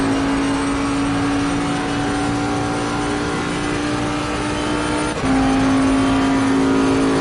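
Race car engine in a racing video game during a practice lap, a loud steady high drone holding a constant pitch with a brief dip and shift near the end, alone without talk.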